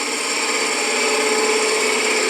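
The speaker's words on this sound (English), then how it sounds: "I'm going to use this beading and parting tool" A beading and parting tool cuts spinning bubinga wood on a lathe, giving a steady, loud, bright scraping whine with a continuous tonal hum, close and unbroken, with no talk.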